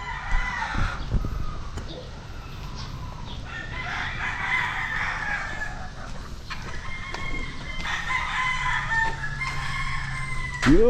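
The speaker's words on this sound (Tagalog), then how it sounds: "Dami ngayong mga manok guys, mga kakugi." Several chickens cluck busily while a rooster crows loudly more than once, with an outdoor farmyard bustle throughout.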